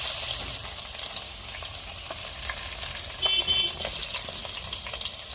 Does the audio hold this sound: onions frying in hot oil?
yes